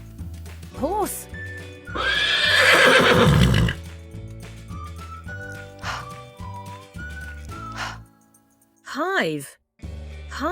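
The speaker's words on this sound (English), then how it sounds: "Horse." A loud horse neigh, a long whinnying burst, over background music with scattered tones and whistle-like sweeps.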